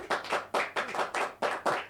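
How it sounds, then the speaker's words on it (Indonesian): A handful of people clap in a small group, five or six soft distinct beats at a steady, moderate pace, close by, with no voices over them. "Tepuk tangannya mana?"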